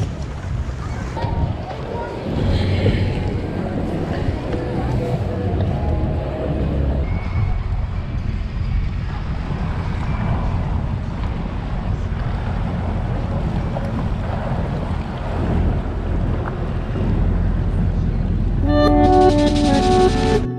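A jet ski cruises around Peanut Island, its steady engine drone and water rush running continuously with wind buffeting the microphone, loud and close throughout; a brief brighter tone rises near the end.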